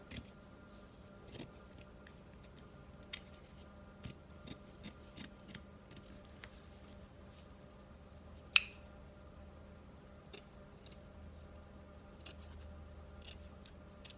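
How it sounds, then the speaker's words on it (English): Scissors snipping through fabric for a sewn face mask, scattered faint sharp snips at irregular intervals over a quiet background, with one louder cut midway. "I'm gonna cut this part off first, and then I'm just gonna cut around here."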